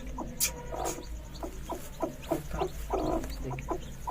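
A hen clucks repeatedly while being lifted off her chicks, a run of short, close, fairly loud clucks and squawks at an irregular rhythm over faint background noise.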